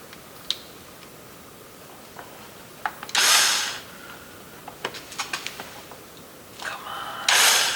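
A cordless power screwdriver works at screws on a Jeep WJ rear hatch, giving two short whirring bursts between scattered clicks and ticks of tool and fasteners, close by and fairly quiet.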